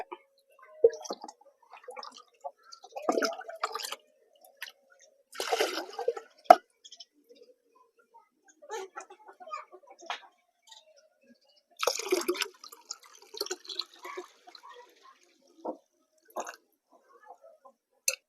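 Water is poured in separate bursts into a carved stone kadai cooking pot, giving splashing, gurgling pours broken by quiet pauses, fairly close.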